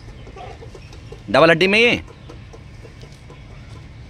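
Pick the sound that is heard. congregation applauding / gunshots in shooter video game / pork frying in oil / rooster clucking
rooster clucking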